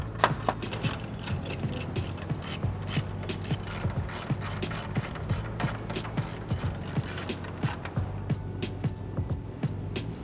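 A hand ratchet works loose 10mm bolts on the grille of a 2009-2018 Dodge Ram pickup, with rapid, steady clicking that runs throughout, close and fairly loud with occasional metallic clunks.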